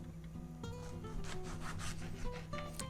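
A knife slices the top off a tomato for a spaghetti ragu, giving faint, close scraping and rubbing strokes repeated over a few seconds.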